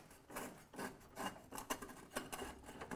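An old single-reservoir brake master cylinder on a Ford with drum brakes is worked loose and pulled out, giving repeated close scraping and rasping metal-on-metal rubs in uneven bursts, with no talking.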